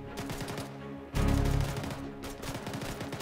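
Rapid bursts of gunfire from an Arma 3 military-simulation multiplayer battle, a fast stuttering volley with a heavier, louder blast in the middle, continuing in quick repeated shots.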